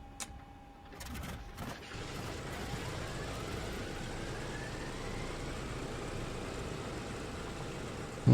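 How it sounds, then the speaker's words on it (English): Piston engine on a PMDG DC-6B airliner starting up in Microsoft Flight Simulator: a few sharp clicks and ignition bursts, then a steady rising rumble settles into a continuous engine drone, fairly quiet overall. "got a good engine start this time"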